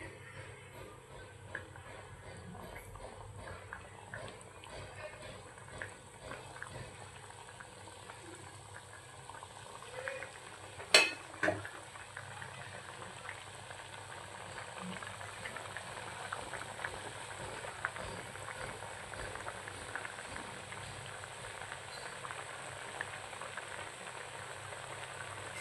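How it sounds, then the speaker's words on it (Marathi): Mutton for Hyderabadi dum biryani boils in a pot with a low, steady bubbling simmer that continues throughout. A single sharp clink comes partway through, and no one speaks. "आता याला आपण छान अशी उकळी येऊ देऊया"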